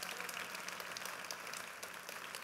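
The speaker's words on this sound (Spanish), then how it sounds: "si va a aplaudir iglesia, hágalo con más ganas." Church congregation clapping during a sermon, a faint but continuous wash of many hands heard from a distance with no speech on top.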